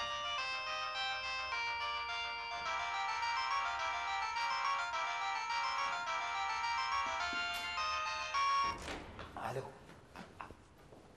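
A mobile phone ringtone plays a bright, repeating electronic melody in a classroom for several seconds, then cuts off into rustling and handling noises, with voices faint underneath.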